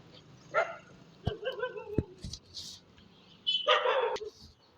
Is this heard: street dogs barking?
yes